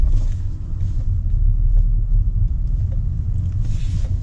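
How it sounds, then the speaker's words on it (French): A BMW 530i engine runs roughly at low revs, a heavy uneven rumble that surges and chokes as the throttle is touched, loud and close with no talking over it. "À peine je touche la pédale, elle se noie direct et elle saute dans tous les sens, ça fait le kangourou."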